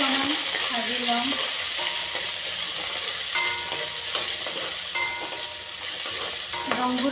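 Whole five-spice seeds frying in hot oil in a pan, a steady bright sizzle with frequent scraping strokes and light clinks of a spoon against the metal, close and continuous.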